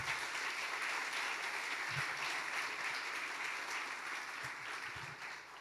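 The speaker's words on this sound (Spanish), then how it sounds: "Aplaude eso." A church congregation applauds together, a steady, even wash of clapping from many hands that holds level throughout and tapers slightly near the end.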